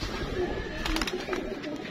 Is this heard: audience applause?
no